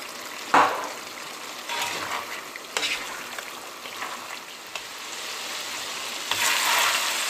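Venison chunks frying in a pan for a ragout, a steady close sizzle and crackle with brief louder spits as the meat is stirred, no voices.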